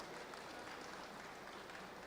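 Audience applause at a Gamescom Latam talk about the Godot game engine, a steady wash of many hands clapping throughout, fairly distant and even in level.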